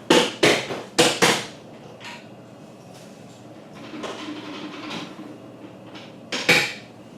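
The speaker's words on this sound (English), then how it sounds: "So I'm going to empty the bin here, and we're going to do this one more time." The plastic dust bin of a vacuum cleaner being emptied, with a run of loud hard knocks and clacks at the start, then quieter rustling and handling, and a final double knock near the end.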